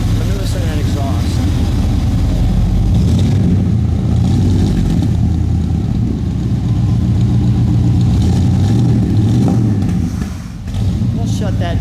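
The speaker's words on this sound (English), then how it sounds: "Let me listen to that exhaust." Indoor idling exhaust of a 1956 Golden Sahara II custom show car, a steady low engine rumble that runs continuously beneath speech.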